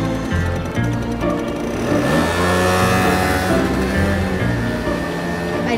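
An engine revs and pulls away for a ride with a loud, steady mid-pitched drone that rises in pitch as it accelerates, alone without speech.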